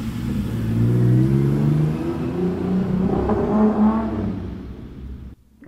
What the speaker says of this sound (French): Arrive maintenant une BMW,